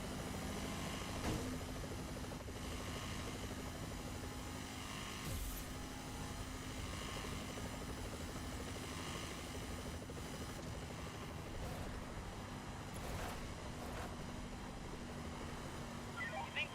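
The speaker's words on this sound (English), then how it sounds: "You think by now this guy would know he can't hide from a chopper?" Police helicopter in a video game pursuit, its rotor and engine drone steady and fairly distant across the whole stretch, with occasional faint game sounds and a radio-like voice mixed in.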